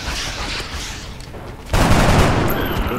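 Gunfire from a squad in the X-Com video game: a sustained burst of shots begins partway through and continues to the end, loud and dense after a quieter stretch of ambient game sound.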